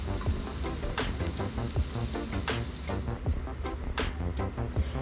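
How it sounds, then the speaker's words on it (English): Shrimp fry in a hot pan, giving a bright, close sizzle with scattered pops that cuts away abruptly about two-thirds through, leaving softer crackles. "I'm proceeding to cook my shrimp. Let them cook on that side"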